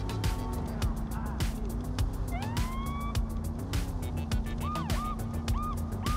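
A wailing police-style siren rises and falls over steady engine hum and busy game-like effects in Saints Row (2022), with faint talk underneath.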